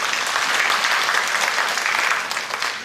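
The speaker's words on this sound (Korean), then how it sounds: "우리 성도들의 우리 감사와 영광의 박수 한번 올려드리면 감사하겠습니다" A church congregation applauds at a 2011 special dawn revival service, with continuous, loud, close clapping that fades slightly in the last half-second, and no voices over it.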